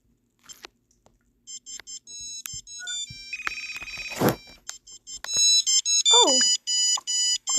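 A phone notification ringtone plays as a bright, repeating electronic melody of short tonal beeps, moderately loud and close, with a brief rustle and a sliding tone partway through.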